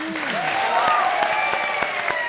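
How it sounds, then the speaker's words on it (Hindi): A short burst of applause, with a few sharp claps standing out above a dense crowd clapping. "जोरदार तालियां"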